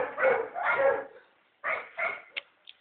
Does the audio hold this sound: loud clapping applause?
no